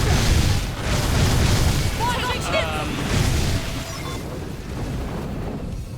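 Missile blasts in the Xenoblade Chronicles X game sound as a loud, dense booming rumble that swells early and holds steady before easing off, with game voices chattering over the explosions.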